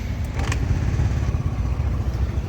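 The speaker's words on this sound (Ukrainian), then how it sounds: "Перевіримо, як заводиться з кікстартера." A Honda Dio 110 JF31 fuel-injected scooter from Japan is started with the kickstarter. A brief metallic clatter of the kick is followed by the small engine catching and idling steadily, close by and low-pitched.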